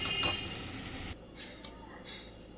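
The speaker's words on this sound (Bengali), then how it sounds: "এবার ভালো করে মশলাটা কষিয়ে নেব।" Spice paste with onion, tomato and ginger-garlic paste is stirred and fried for a Bengali chicken curry: a dense hiss of frying and light clinks of a spoon on the pan, which drops to a quieter sizzle partway through.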